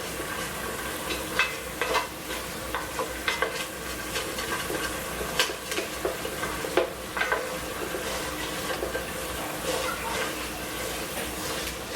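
Beef tips stirred in a pan while wine deglazes and reduces, giving a steady sizzle and frying hiss with scraping clicks from the spoon, and a voice speaking over it.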